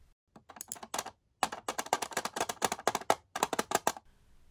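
Rapid light taps land on a tiny homemade toy drum with a parchment paper head. They come in quick bursts of dry, papery clicks, close up, with brief pauses between the runs.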